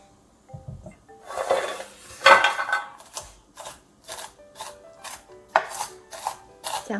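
A kitchen knife chops walnuts on a board for Chinese walnut cookie dough: a run of crisp, close chopping strokes, irregular at first, then settling into a steady rhythm with no voices.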